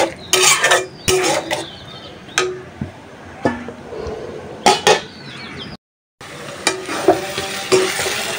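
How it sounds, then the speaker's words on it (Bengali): Spice filling of chepa dried fish and pumpkin leaves fries in a pan, a low sizzle broken by repeated sharp clanks and scrapes of a spoon stirring against metal, with one brief silent gap. "তো ভাজা ভাজা করে নিচ্ছি"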